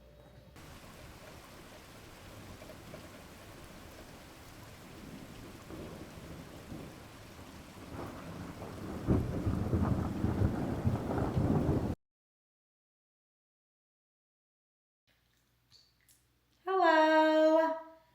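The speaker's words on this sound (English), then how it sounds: "as you can see, it's raining" Steady rain falling outdoors on a spring day, a broad hiss that swells louder before cutting to silence, followed by a brief burst of nearby sound.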